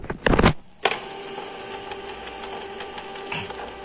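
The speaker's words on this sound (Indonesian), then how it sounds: "lalu kita print, ya, kita lihat seperti apa prosesnya." A Canon iP2770 inkjet printer prints an ID card, opening with a few mechanical clunks and then settling into a steady whirring and buzzing of the print mechanism, close by.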